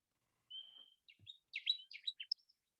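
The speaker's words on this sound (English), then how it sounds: "Connecticut warblers have only one song type." A Connecticut warbler sings one short song: a thin opening whistle followed by a quick run of bright chirpy notes, clear and isolated against silence, fairly faint and distant.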